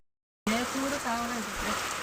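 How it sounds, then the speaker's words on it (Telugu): Heavy rain falls outside a home, a dense, steady hiss that starts abruptly and continues under a voice speaking. "చూడండి ఫుల్గా వర్షం పడిపోతుంది"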